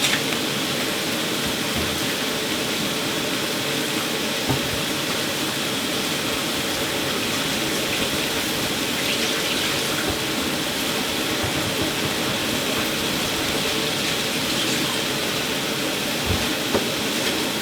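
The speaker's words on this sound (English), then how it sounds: "Now we're going to give it a good wash." Leeks washed under a running kitchen tap, a steady, even hiss of flowing water that runs unbroken throughout with no talking.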